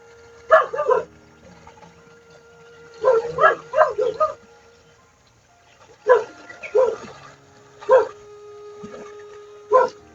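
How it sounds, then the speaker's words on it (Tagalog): Dogs bark in several separate bursts of sharp, close barks and yips, with quiet gaps between them. "Kanina pa yung tumatahol ng aso mga ito"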